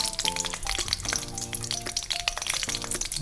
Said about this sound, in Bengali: তেলটা গরম হয়ে যাওয়ার পর আমি দিলাম শুকনো লঙ্কা, তেজপাতা, ফোড়নের জন্য গোটা জিরে